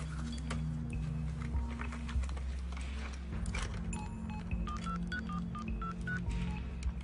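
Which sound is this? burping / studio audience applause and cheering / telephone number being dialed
telephone number being dialed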